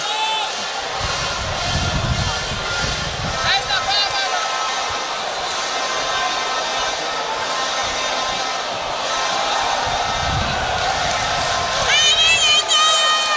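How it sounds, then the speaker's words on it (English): A crowd cheers and shouts continuously at a boxing fight between welterweight fighters, a loud, sustained roar with whistles and yells rising and falling over more than ten seconds. "The crowd is really excited."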